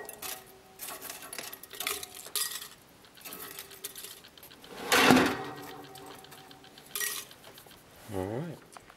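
Toasted eggshells are tossed into a storage jar, making a brittle rattling clatter that peaks in a single loud burst midway, surrounded by lighter clinks and handling noises, with a brief voice-like tone near the end.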